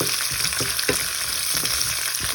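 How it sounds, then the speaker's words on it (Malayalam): Onions, garlic and green chillies fry in a pan with a steady, close sizzle, broken by repeated scraping stirs of a spoon against the pan. "ഈ ഇതെല്ലാം ഒന്ന് വെന്ത് വരുന്നവിടെ വരെ നമുക്കൊന്ന് ഇളക്കി എടുക്കണം."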